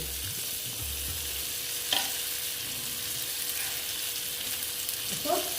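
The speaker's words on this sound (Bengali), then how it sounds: "সামান্য নুন দিয়ে দিলাম দিয়ে আস্তে আস্তে পটলটাকে ফিফটি পার্সেন্ট ভেজে নেব" Pointed gourd (potol) frying in a pan with turmeric, a continuous close sizzle with occasional scraping stir sounds and light clinks, no one speaking.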